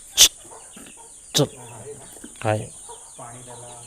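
Desi country chickens on a farm in Konkan, one bird suffering heat stroke, give several short, sharp clucks and squawks spaced across the moment, with a person speaking nearby.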